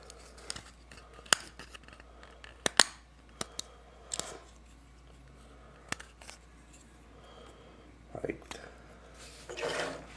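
A plastic Dinobot toy tail is pried apart into sections, giving a scattering of sharp, close plastic clicks and snaps with quiet rustling between them and a longer scrape near the end.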